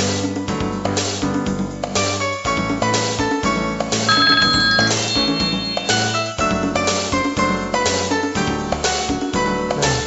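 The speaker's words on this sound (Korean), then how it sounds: "또 전화 또 연결해 보겠습니다." A telephone ringtone plays as a caller is connected to a Korean health call-in broadcast, a steady, loud, melodic electronic ring repeating for about ten seconds with no talking over it.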